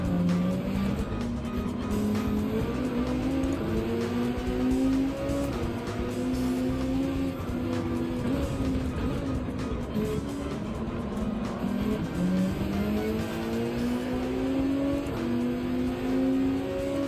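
Race-car engine of a Volkswagen Beetle in Gran Turismo 7 at Mount Panorama, a steady loud drone whose pitch rises and falls through gear changes over the full stretch, with no talking.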